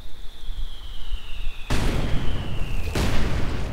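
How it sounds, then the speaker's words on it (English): Mortar rounds explode in Company of Heroes 2 as two sharp, loud blasts about a second apart, each with a rumbling tail, over a thin high whine and battlefield noise. "looks like this field gun is going to get hit with mortar rounds"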